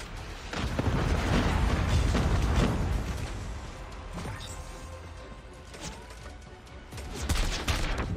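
SKS rifle fire in a multiplayer shooter: rapid volleys of loud shots in bursts, fading into scattered distant gunfire and then swelling again, with a player talking over parts of it.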